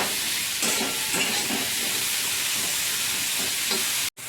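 Gime greens frying in a pan with onion and green chillies, a steady sizzle and hiss broken by repeated scraping stir strokes, close and even, cutting out abruptly near the end.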